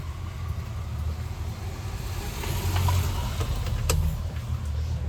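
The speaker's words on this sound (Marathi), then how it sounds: "हा इंजनचा सॅम्बल आहे ना तो जात नाही" The engine of an auto rickshaw idles with a low, steady rumble and faint rattles nearby, the engine sounding rough after a hard start, with no voices over it.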